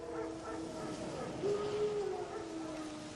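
Faint wild dogs yip, whine and howl in the distance in The Witcher 3: Wild Hunt video game, the cries rising and falling over a low background hush.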